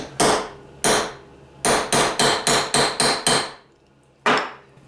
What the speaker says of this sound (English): I'm going to give it a really couple of good real hard whacks